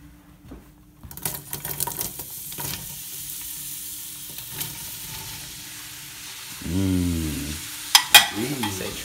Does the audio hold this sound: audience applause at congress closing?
no